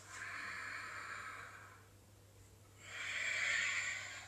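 A slow, breathy inhale through the nose during a dynamic yoga flow, quiet and close, followed by a pause and a second, fuller airy breath; no talking.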